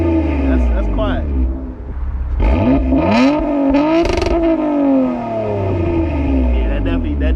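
The engine of a bagged 2020 Toyota Camry revs in sport mode, its RPMs sweeping up sharply and falling back in loud, close surges, with voices talking over it.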